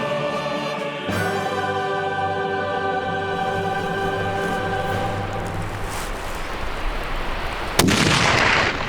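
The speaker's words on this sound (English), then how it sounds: "Either I'm gonna shoot, or Ryan, aka cameraman, right now is gonna shoot" A single rifle shot rings out near the end during a ram hunt in Russia. A steady humming drone plays beneath it before the shot, and a rumbling tail follows it.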